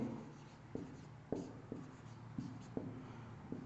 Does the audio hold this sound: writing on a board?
yes